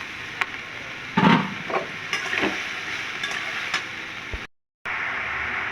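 Cut water lily stems hit hot mustard oil tempered with bay leaf, dried chilli and radhuni, a loud steady sizzle with a few stirring scrapes and bursts of spatter, then a brief silent gap.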